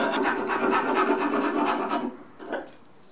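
A handsaw cuts through a brass-headed mallet workpiece with rapid, rhythmic rasping strokes for about two seconds, then falls quieter with a couple of short final scrapes as the piece comes free.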